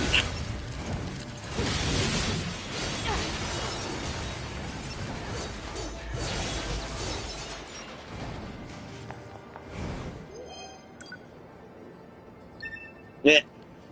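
Grinding, ratcheting machinery of a gate mechanism opening in the video game NieR: Automata, mixed with crashing, blast-like bursts, then fading and ending in a sharp, loud click near the end.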